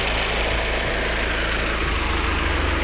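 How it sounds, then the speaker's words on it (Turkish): A car engine idling steadily after a silicone part was fitted, a constant droning hum with a rough vibrating undertone, close and unbroken, with no talking. "Silikon parçayı koyduk, motoru çalıştırdık ve şu anda"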